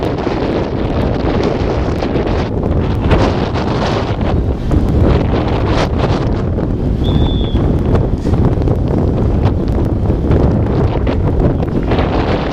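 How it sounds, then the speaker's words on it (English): Strong wind buffets an outdoor freshman football field before the coin toss, roaring steadily and loudly across the microphone the whole time with no break. "The wind is blowing from left to right, and it's blowing at a pretty good clip."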